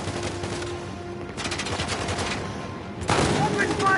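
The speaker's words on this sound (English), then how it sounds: "Someone shooting from behind." Gunfire cracks out in rapid bursts from behind the player in Uncharted: The Lost Legacy, a dense automatic clatter under a noisy combat mix that swells louder near the end.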